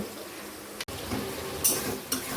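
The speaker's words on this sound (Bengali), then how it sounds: "এই যে পেঁয়াজটাকে ভালো করে আগে ভেজে নেব" Onions frying in a pan with bay leaf and garam masala give a low, soft sizzle, broken by a few quick clicks and a light utensil scrape against the pan.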